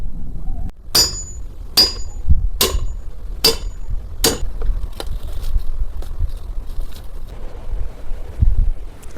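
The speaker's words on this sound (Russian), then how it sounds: "Отрезали кусок профиля, туда его забиваем" A hammer drives a short cut piece of metal profile into place for a canopy over a garage gate. Five crisp, ringing metal blows come at a steady pace, followed by a few fainter taps against wind noise outdoors.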